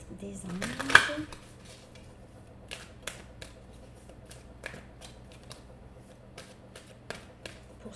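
An angel card from an oracle deck is shuffled and drawn, a close rustle and flick near the start followed by sparse, soft card snaps and taps spaced irregularly through a quiet room.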